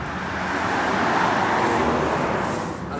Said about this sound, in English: I apologize for the noise from these cars